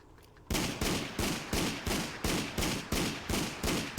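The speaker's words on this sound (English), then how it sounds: "shoot the gun again." A .44 Magnum pistol, a Desert Eagle prototype in the video game Fallout 4, fires eight loud shots in quick, evenly spaced succession after a brief quiet start, each blast sharp and close.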